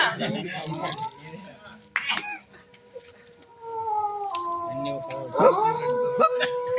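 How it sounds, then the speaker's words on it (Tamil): A dog howls in long, wavering drawn-out tones, rising and falling over several seconds amid a comic stage scene, with voices and other noise around it at moderate distance. "நாய் கூட ஊத்துறா."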